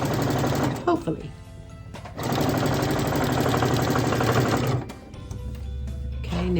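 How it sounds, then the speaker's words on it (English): A sewing machine runs loud and close along a rag quilt seam in two sustained bursts separated by a brief stop, with speech heard around the stitching. "if you press down while you're sewing, that underneath seam will stay open."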